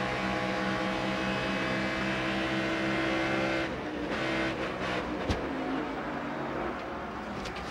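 A Grand Am Rolex Sports Car Series race car heard from onboard in 2004, its engine droning steadily at high revs, then shifting and easing with brief mechanical thumps, loud and close throughout.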